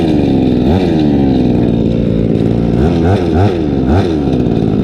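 A two-stroke brush cutter with a fault that makes it stall at idle runs loud and close, its buzzing engine note wavering and dipping unevenly throughout.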